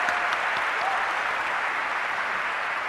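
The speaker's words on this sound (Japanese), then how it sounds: "let's give a big round of applause for our orchestra today" Audience applause for an orchestra at a Nintendo E3 2011 presentation for the Zelda 25th anniversary, a dense, steady clapping from a large crowd that fills the whole stretch at even loudness.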